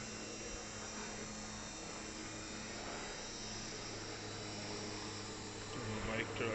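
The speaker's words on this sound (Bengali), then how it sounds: "এখন কোথাও হেলিকপ্টার উড়ে যাচ্ছে" Helicopter flying overhead in a mountain valley in North Sikkim, a faint steady drone in the distance under a constant background hum, with no voices.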